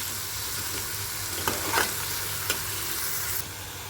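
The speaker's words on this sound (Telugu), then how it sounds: "ఇప్పుడు టమాటా వేసేస్తున్నానండి ఒకసారి బాగా కలిపేసుకున్నామండి" Tomatoes added to softened onions in a frying pan and stirred, giving a steady sizzle with a few scraping stir strokes, moderately quiet and without voices, while cooking a bitter gourd curry.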